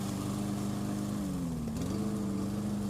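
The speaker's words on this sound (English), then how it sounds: "I lift that mower up about maybe 3 or 4 inches and just drop it right on top of those leaves" A lawn mower runs steadily at close range while mulching a pile of leaves, its drone dipping briefly as the machine is lifted a few inches and dropped back onto the leaves, then returning to full pitch.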